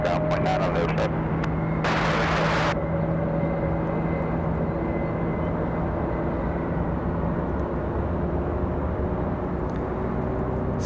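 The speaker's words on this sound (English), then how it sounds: "Sounds like we've got a Frontier starting up possibly over on the other side." A Frontier airliner's engines start up across Raleigh-Durham airport: a constant broad roar with a steady tonal hum, distant and unbroken, with a brief louder burst early on.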